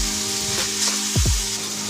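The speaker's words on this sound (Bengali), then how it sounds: "দিয়ে ভালো করে কষিয়ে দেবো।" Tomato paste sizzles in a pan while being sautéed for Bengali katla kalia fish curry, a short, close burst of frying with a couple of quick stirring scrapes and no voices.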